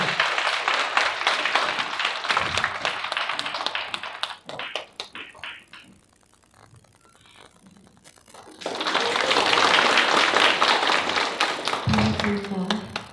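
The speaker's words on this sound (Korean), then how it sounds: "나오실 때 큰 박수 부탁드리겠습니다." Audience applause welcomes a singer to the stage at a lecture event on international affairs and reunification: a dense burst of clapping fades to a quieter stretch, then a second loud round of applause swells and holds.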